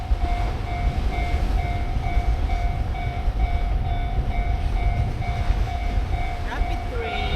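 A train rolls steadily past a station in Otaru, Japan, its loud, continuous rumble and rail noise filling the scene with a sustained tone. Voices are faintly audible beneath it.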